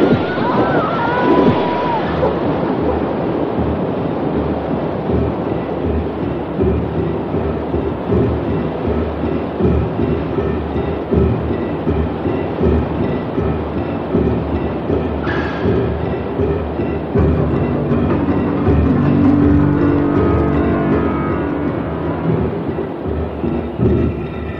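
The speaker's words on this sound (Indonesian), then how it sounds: "Celaka, kita sudah dekat ke bibir air terjun." A boat swept toward the brink of a waterfall, a roaring wall of rushing water with heavy rumbling, loud and continuous throughout, no clear speech.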